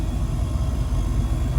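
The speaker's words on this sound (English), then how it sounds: "The heat defrost works excellent, you can actually hear it" The heater defrost fan in a 1967 Ford Mustang runs as a steady, close, low whooshing hum with an even airy rush, unchanging throughout and without any talk.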